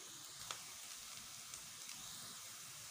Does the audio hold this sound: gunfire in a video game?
no